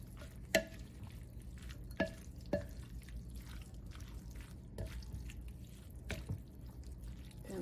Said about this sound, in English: Now I'm just gonna mix it with the meat.